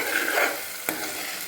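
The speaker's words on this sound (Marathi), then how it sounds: "ते आता असे व्यवस्थित मिक्स करायचे." Pasta mixed with tomato ketchup gets stirred in a frying pan, a brief close scrape and sizzle with a sharp spoon knock near the middle, no voices.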